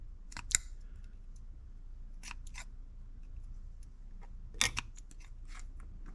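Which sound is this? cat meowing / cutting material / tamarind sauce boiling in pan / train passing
cutting material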